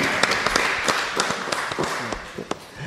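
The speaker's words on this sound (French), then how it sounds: "Je pense que ça mérite un petit coup d'applaudissement." Audience at a podcast event clapping, a ragged burst of individual hand claps close by, thinning out toward the end.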